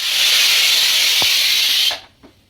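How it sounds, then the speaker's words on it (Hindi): A pressure cooker boiling chickpeas lets out one long, loud, steady hissing whistle of escaping steam that cuts off abruptly, followed by a couple of faint clicks. "ये कुकर में मैंने चने उबलने के लिए रख दिए हैं, तो उसमें आ रही है सीटी,"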